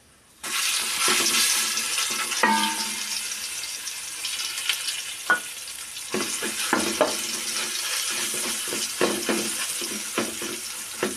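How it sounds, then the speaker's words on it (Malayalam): Ground spice paste, stone-ground for a Kerala-style fish curry, hisses and sizzles in a hot pan over mustard seeds, with scraping stirs and clinks of the spoon against the pan throughout, close and steady with no voices. "ഇനി നമുക്ക് കല്ലേ ചായച്ച ആ പേസ്റ്റ് ഇതിലേക്ക് ചേർക്കാം"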